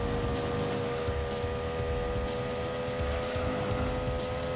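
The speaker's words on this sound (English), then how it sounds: "six-cylinder kind of sounding Miata" Engine note of a Miata race car in Gran Turismo 2, tuned to sound like a six-cylinder, a steady, continuous buzzing drone with stable harmonics holding throughout, fairly loud and alone.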